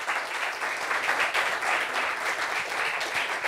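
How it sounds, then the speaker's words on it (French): Studio audience applauds steadily for a female guest on a talk show, a dense, even wash of clapping throughout with no voices over it. "Applaudissements pour elle, s'il vous plaît."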